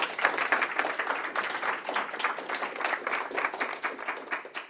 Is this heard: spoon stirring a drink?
no